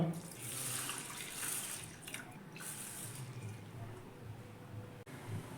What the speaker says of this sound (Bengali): সেই বাটিরই আমি এখানে দিয়ে দিচ্ছি দেড় বাটি জল